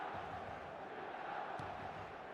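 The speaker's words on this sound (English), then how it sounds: "The stadium is full of noise and energy." Dense stadium crowd roar from the eFootball 2026 football game, a steady wall of massed voices and cheering that holds at an even level throughout without a break.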